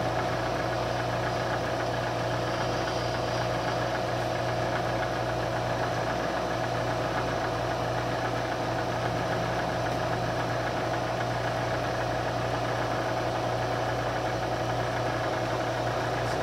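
A milling machine runs steadily with a continuous mid-pitched motor hum and faint mechanical vibration while milling ports in a brass rotary valve, with no talking throughout.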